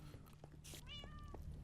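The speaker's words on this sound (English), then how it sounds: "And did I just hear a cat?" A cat in a Minecraft FTB Infinity world, apparently hidden inside a wall, gives a single clear, drawn-out meow, fairly faint against a low steady background hum, with no talking.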